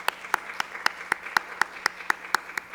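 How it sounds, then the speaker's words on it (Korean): A church congregation gives steady rhythmic applause during a worship service, with sharp claps at a regular pulse over a dense wash of clapping. The sound is moderately loud and there is no talk over it. "우리 다시 한번 박수로 축복합니다."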